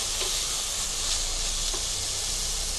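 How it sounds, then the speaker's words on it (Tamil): Red cabbage sautéing in a pan, giving a constant hissing sizzle with faint stirring taps, close and even, no talking. "சிகப்பு முட்டைக்கோஸ். இது நல்லா வதக்கிக்கோங்க."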